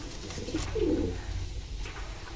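A pigeon in a loft gives a soft, low cooing call, one brief throaty burst that stands out close by against a quiet background.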